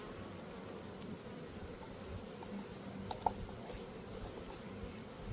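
A mass of honey bees buzzes as a faint, steady, close drone, with small rustles and a soft tap partway through.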